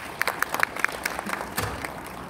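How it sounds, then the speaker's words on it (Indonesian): Scattered applause from a small audience at a business presentation, sparse and uneven, with a few sharp individual claps standing out before it thins. "Tepuk tangan Bapak Ibu."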